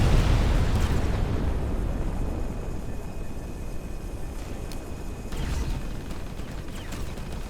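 An enemy ship blows up in the space game Between The Stars with a loud, rumbling burst that fades slowly into a low roar, and a couple of faint crackles follow.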